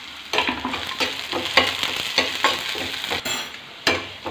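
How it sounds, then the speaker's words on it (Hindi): Chopped onion and green chili fry in a pan, a steady close sizzle broken by repeated scraping stirs of a spatula, with no voices. "प्याज बारीक कटा हुआ, अब इसको अच्छे से भूंज लेंगे।"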